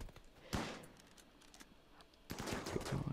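Gunshots in the colony-management game RimWorld during a tribal ambush, a quiet burst of shots, a lull, then a longer cluster of cracks further off, all fairly faint.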